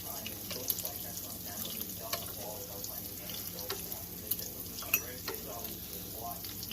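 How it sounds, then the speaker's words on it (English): Hot excess grease drained from a pan of cooked meatballs, a continuous sizzle and liquid pour with scattered small clicks and clatters of the pan, fairly close and steady throughout. "I'm going to get rid of all of this excess grease that you have no use for"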